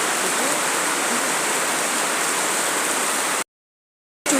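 Steady rain pouring outside a Durga puja pandal on the second day of the festival, a dense continuous wash of hiss, close and loud, that cuts off abruptly near the end.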